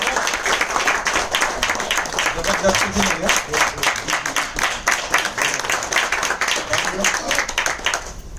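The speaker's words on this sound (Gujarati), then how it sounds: "એકવાર જબરજસ્ત તાળી થઈ જાય જબરજસ્ત" Audience applause after a business seminar talk, a dense steady wash of many hands clapping throughout, with some voices mixed in.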